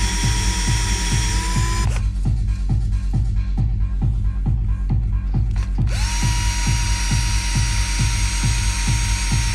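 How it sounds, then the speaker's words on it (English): A drill bores into the housing of a 2.9 L Whipple supercharger on a 300 SRT-8, with a steady, loud ratcheting pulse running throughout and a harsher, grinding stretch in the middle of the cut. "every time you drill for like a couple seconds, just bring it out, clean the shavings, and put it back in"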